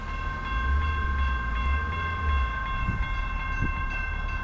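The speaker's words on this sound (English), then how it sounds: "We got a CSX westbound." A CSX westbound intermodal freight train passes a road crossing in the early morning, sounding its horn in steady sustained tones over a continuous low rolling rumble of cars on the rails, with no talking.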